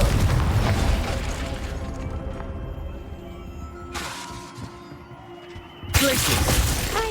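A Confringo fire-blast spell from the Hogwarts Legacy game detonates in loud bursts: a dense crackling blast at the start, then a sharp shattering burst near four seconds and another powerful one near six, over a low rumbling game backdrop.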